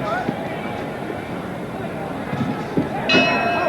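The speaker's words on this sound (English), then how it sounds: "And the bell." A boxing ring bell clangs to end a round in the Muhammad Ali versus Jimmy Ellis fight. The single ring comes near the end, partly buried under crowd noise and a commentator's voice.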